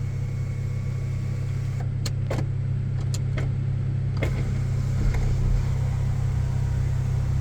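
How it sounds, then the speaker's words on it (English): Sunroof of a 2019 Kia Stinger GT opening, a few short motor whirs and clicks over a steady low cabin hum from the idling car, close and fairly quiet. "Obviously got the sunroof at the top there too. So we'll crack that open, make sure that works."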